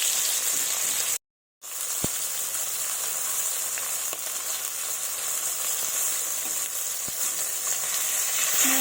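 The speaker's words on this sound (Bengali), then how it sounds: "মাছগুলো আমি ভালোভাবে ভেজে নেব" Fish pieces frying in hot oil give a steady, close sizzle that runs continuously, broken only by a brief gap of silence near the start and a few faint clicks.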